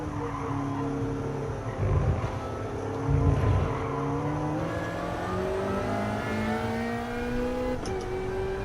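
A race car engine in Gran Turismo Sport laps Le Mans on a qualifying run. It's a loud, close engine drone that climbs in pitch through repeated upshifts, with brief rough bursts partway through.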